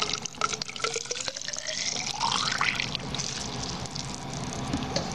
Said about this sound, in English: take a cup of water, pour it into your tube, like so